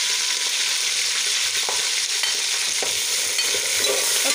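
Green chilies and tomatoes added to a hot oiled pan sizzle loudly and steadily in a Pakistani mixed-vegetable dish, a close, continuous frying hiss with faint stirring clicks and no voices.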